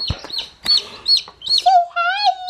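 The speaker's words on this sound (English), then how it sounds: "We have 3 small chickens here." Three small chickens clucking and chirping up close, a quick run of high calls with short pauses between them.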